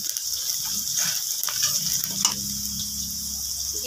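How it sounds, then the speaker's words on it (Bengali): Onion stirred and frying in a little oil for a hilsa fish dish, a steady soft sizzle with a few scraping stirs, close and moderate, no talking. "পেঁয়াজটাকে অল্প তেলে নেড়ে নেব"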